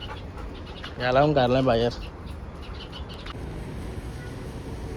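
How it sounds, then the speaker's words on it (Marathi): A single loud, wavering bird call lasts about a second at a Haldi celebration, close by, before a lull in the background noise. People talk nearby. "हे बघा कसला भारी पक्षी ना. आवाज किती भारी आहे त्यांचा."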